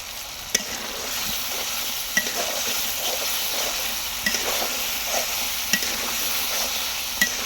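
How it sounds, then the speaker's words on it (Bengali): Chopped tomatoes going into browned broiler chicken frying in oil, a steady sizzle with scattered sharp clicks of a spoon stirring the pan, close and fairly loud, no talking. "এখন দিয়ে দিবে কেটে রাখা টমেটো"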